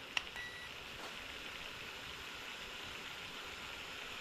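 Water coming to a boil in a pan, a steady, close rushing bubble and hiss that holds evenly throughout, with one faint beep near the start.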